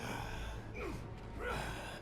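A character in the Spider-Man 2 video game pants heavily in a few quick, moderately loud gasping breaths over a low ambient game background.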